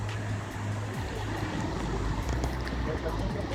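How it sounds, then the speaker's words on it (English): Victoria Falls pours in a continuous broadband roar of falling water that stays steady and dense throughout, with a low hum running underneath. "Milky water falling and forming white water fumes."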